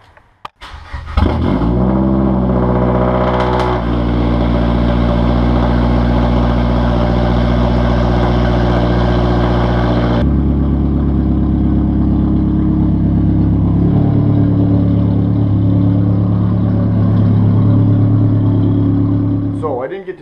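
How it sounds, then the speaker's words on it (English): A Mazdaspeed 3 engine cranks and catches on a cold morning start, revving high before settling into a loud, steady, close idle that drops slightly after ten seconds. "I'm gonna cold start my speed here"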